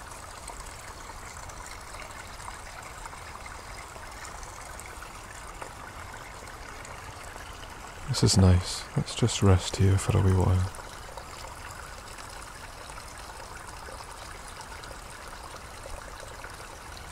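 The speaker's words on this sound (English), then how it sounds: "Enjoy the sound of those crisp timbres of the water hitting itself." A small woodland waterfall in a stream trickles and splashes steadily, with a soft voice talking briefly over the running water partway through.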